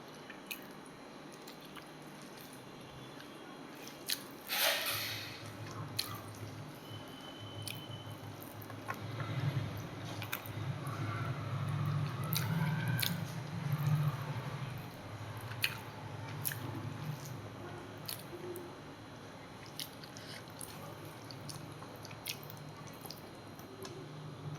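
Someone eats fish at lunch, with soft wet chewing and squishy mouth sounds repeating close up over a quiet room background, with no talking.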